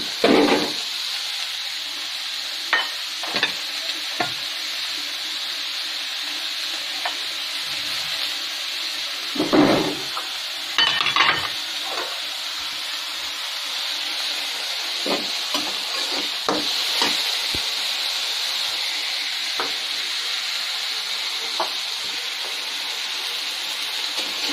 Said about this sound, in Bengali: তো এটা ভাজা হবে, লালচে লালচে হবে